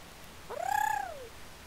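A small owl in the fantasy visual novel Embers of Magic gives a single rising and falling coo lasting under a second, clear and close against a quiet background.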